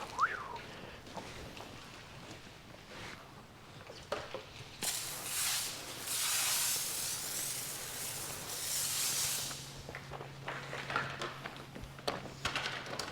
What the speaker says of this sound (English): So I'm just spraying this down again just to give those bugs the last opportunity to stay on the truck.